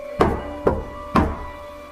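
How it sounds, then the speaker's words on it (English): Three slow, deliberate knocks on a door, evenly spaced about half a second apart, each a solid thud with a short ring, over a faint steady hum and otherwise silent room. "3 slow, deliberate knocks."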